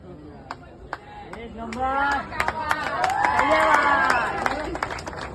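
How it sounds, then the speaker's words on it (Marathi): Crowd at a Govinda Pathak human-pyramid event in Nallasopara East cheers and claps, swelling in the second half, with many voices and shouts layered over a busy, dense background. "जोरदार टाळ्या राजनगर गोविंदा पथक नालासोपारा यांच्यासाठी"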